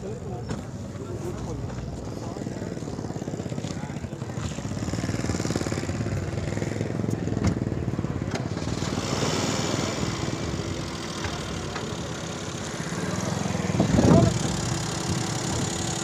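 A 1993 Suzuki Margalla car engine runs at a steady idle, giving a continuous low rumbling drone with a slight rise in intensity near the end.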